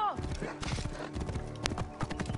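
Quick clip-clopping horse hooves trot close by alongside a brief whinny in the video game Assassin's Creed Origins, while a person talks over the steady rhythm.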